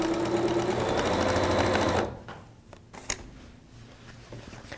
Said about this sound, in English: I'm going to take it over to my machine now to sew.